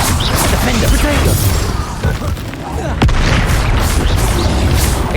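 Confringo fire spell blasts in Hogwarts Legacy, a steady rumble of explosive booms and crashing impacts during combat, with a sharp hit near the middle, loud and dense throughout.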